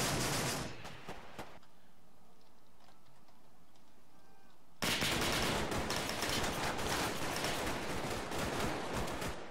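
Gunfire in a military shooter video game: a loud burst of rapid shots, a brief near-silent pause, then sustained, dense automatic fire that continues to the end.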